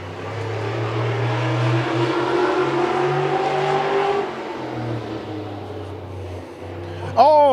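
Race cars drone and rev around a short oval track during heat races, a steady engine roar that dips and swells as the cars pass, with one sharp rising burst near the end.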